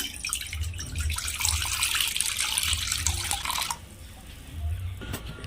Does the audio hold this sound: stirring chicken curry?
no